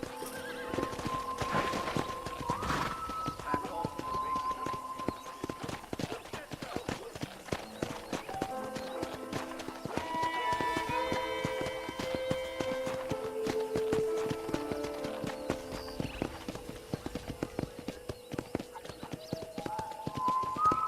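A horse walks on a ranch property, hooves clip-clopping in a steady quiet rhythm, with occasional whinnies and snorts; a person talks over the hoofbeats throughout.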